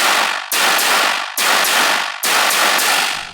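Two saturated synth chains run through a frequency shifter, pitched slightly apart for a warbly, detuned tone; four loud, dense bursts repeat in a steady rhythm with the highs rolled off.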